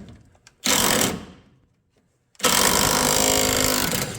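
A small impact gun working loose the upper control arm bolt on a 2000 Toyota Tundra front end, two loud rattling bursts close by, the first short and the second longer, separated by a brief pause.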